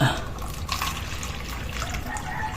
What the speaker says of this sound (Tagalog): bigyan natin ng tubig tong mga to dahil nauuhaw